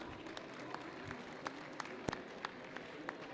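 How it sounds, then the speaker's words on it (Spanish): Sparse, faint applause from a small workshop audience, scattered individual claps standing out over a quiet hiss. "Un aplauso para él también."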